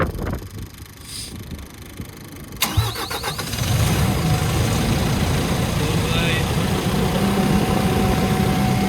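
A vehicle engine cranks and starts after a fuel leak repair, then idles steadily outdoors in wind, loud and close, with a person speaking briefly before it catches.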